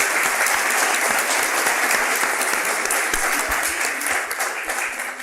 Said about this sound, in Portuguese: salva de palmas para o nosso John Nash